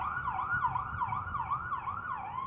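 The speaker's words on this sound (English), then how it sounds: "All right, guys, I hear a siren." An ambulance siren wails in smooth rising and falling sweeps, about two cycles per second, loud and steady with no voices over it.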